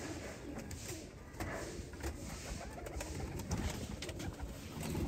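Pigeons in a breeder's loft cooing softly amid steady background rustling and room noise, with low murmuring calls running continuously through the scene.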